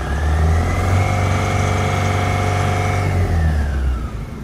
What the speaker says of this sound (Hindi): गाड़ी को रेस